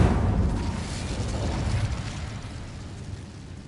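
A fiery burst from the Incendio fire spell in Hogwarts Legacy: a loud, dense low whoosh and rumble that holds steady for a few seconds, then slowly fades, with no voices.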